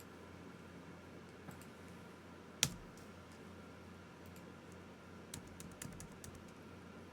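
Light keyboard clicks and taps come in sparse bursts at a desk, with one sharper, louder click partway through. They stay faint and close, with no voice over them.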